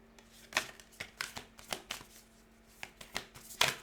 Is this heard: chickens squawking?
no